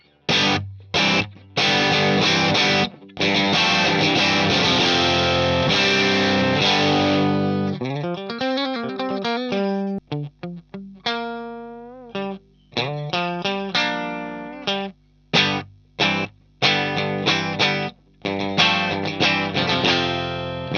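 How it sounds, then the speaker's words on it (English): Loud, heavily distorted and compressed guitar chords from a 59 BASSGUY amp model pushed into power amp distortion, played as choppy riffs with sharp stops and short sustained passages throughout. "you're hearing heaps of power amp distortion and compression"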